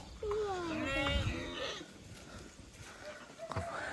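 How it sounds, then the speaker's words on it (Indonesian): Goat on a farm bleating with a wavering, drawn-out call up close, followed by quieter rustling and a short second bleat near the end. "Nah ini kambing"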